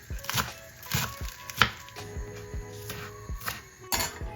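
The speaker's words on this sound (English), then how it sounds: "I'm going to cut spinach, using half packet" A knife chops pre-washed spinach on a board in a home kitchen, about a dozen crisp, evenly paced thuds and clicks, close and fairly quiet with no one talking.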